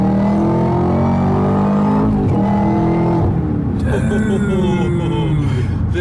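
Supercharged engine of a 2018 Jeep Trackhawk revs loudly and climbs, then blips during a rev-matched paddle downshift before pulling up again, with a voice talking over the engine.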